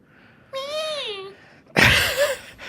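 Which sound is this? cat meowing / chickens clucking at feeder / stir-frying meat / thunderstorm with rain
cat meowing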